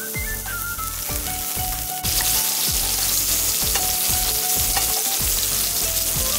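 Cut mango and pineapple sizzle and fry loudly in a hot pan, a steady crackling hiss broken by repeated stirring scrapes, heard close up with no talking.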